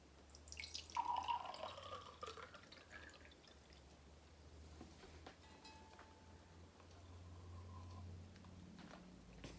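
Kool-Aid drink being poured into a glass indoors, a brief burst of liquid splashing and trickling near the start, followed by faint drips and low room noise.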